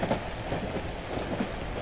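Train rolling on rails inside a video game, a continuous close rumble with faint rhythmic clatter from the wheels and no talking.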